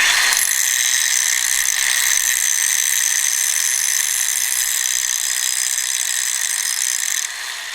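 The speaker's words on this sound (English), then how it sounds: "Grinder slowing down." Farm grinder winding down during daily chores, a steady loud mechanical whir with a bright, rattling high-pitched drone that holds for several seconds, then drops in level near the end as it slows.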